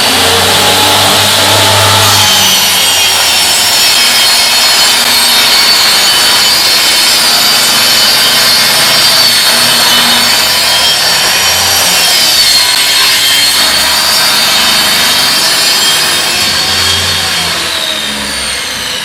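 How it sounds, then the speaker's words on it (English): Panel saw cutting through wood, a loud steady whine and rasp of the spinning blade running continuously and close, with no speech. "Usually when I finish my cut, I'll turn it off and let it sit at the bottom"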